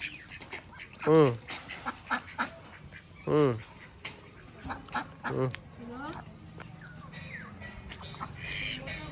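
Ducks quack loudly in several bursts, some near and harsh, while people talk in the background between the calls.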